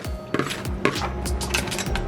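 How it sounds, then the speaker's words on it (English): Crab pieces are tossed into a pot for curry crab, giving a quick run of close, hard knocks and clattering thuds against the pot with no voices. "And now I'm going to toss the crab in."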